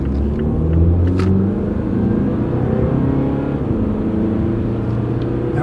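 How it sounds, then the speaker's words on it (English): Car with an automatic transmission accelerating from inside the cabin, a loud steady low engine rumble building with road noise and a smooth gear change, no talk. "take it for a little transmission spin in automatic and see what it does"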